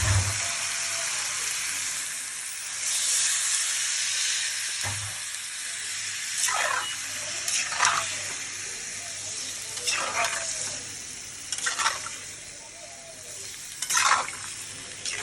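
Bottle gourd cooking with shrimp in a hot pan: a continuous sizzle, with a couple of dull knocks early on. Later come repeated scraping strokes of a spatula stirring the pan, close and fairly loud.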